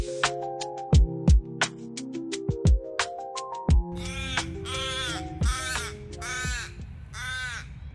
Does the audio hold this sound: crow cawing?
yes